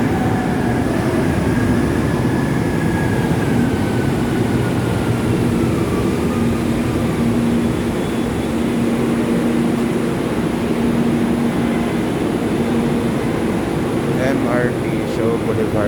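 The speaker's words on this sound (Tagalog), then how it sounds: "sasakay tayo ng MRT dito sa Shaw Boulevard" Manila MRT train ride from Shaw Boulevard toward Taft Avenue, with a steady loud rumble of the carriage and a faint rising whine over it, continuous throughout with a brief squeal near the end, and no clear speech.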